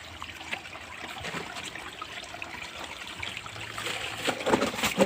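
Water from a natural spring runs out at tree roots in a jungle setting, a soft, steady trickle and gurgle that grows somewhat louder and more splashy toward the end.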